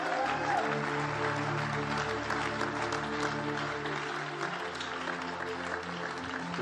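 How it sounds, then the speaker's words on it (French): A congregation at a prophetic worship service applauds and acclaims the king loudly; dense sustained clapping and cheering fill the space under steady music tones, with some voices mixed in. "Acclame très fortement le roi."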